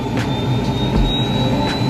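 A helicopter turbine engine spools up to idle as fuel is added during startup: a steady, loud jet-like whine with a high tone over a broad low roar, continuous and close.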